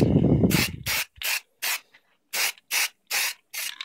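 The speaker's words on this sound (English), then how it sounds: "And now I'm using a little bit of black lacquer." Black lacquer spray paint hisses from an aerosol can onto an EVA foam mask in about eight short, close bursts separated by brief pauses.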